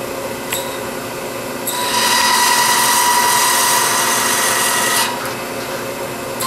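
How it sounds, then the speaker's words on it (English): A Wagner knurling tool is pressed against a spinning wooden acorn ornament on a lathe, giving a steady whining hum that rises into a louder, harsher buzzing for a few seconds before dropping back. "I can get half of it knurled."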